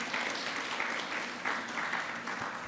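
Church congregation applauding together after a sung prayer, a steady dense clatter of many hands clapping throughout, fairly close and even in loudness.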